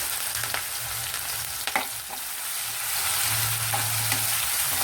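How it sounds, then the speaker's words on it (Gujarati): Onions and chillies sizzle in oil with cumin and asafoetida over a low flame, a steady dense crackle close by with a few soft stirring knocks and no talk. "ગેસની ફ્લેમ લો કરી અને સરસ સતડાવા દઈશું ડુંગળી થોડી મરચાં અને ડુંગળી સતડાય"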